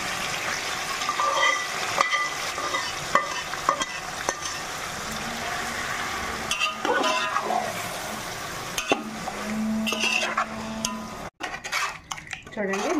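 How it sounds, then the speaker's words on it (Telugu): Marinated mutton frying in oil in a pot for dum biryani, a continuous sizzle with metal utensil scrapes and pan clatter throughout. "ఈ ఆయిల్లో బాగా ఫ్రై అవ్వాలి."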